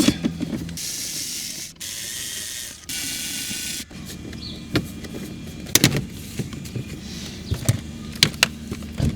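Ratchet with a 7mm socket backing bolts out of an Opel Astra K 1.6 CDTI interior panel during cabin filter work, giving bursts of fast clicking ratchet strokes followed by scattered close mechanical clicks and knocks.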